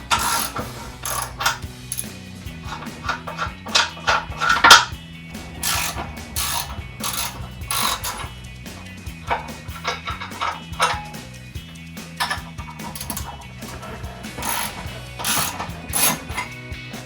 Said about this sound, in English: So our first step is to remove the spare tire by removing these 3 lug nuts.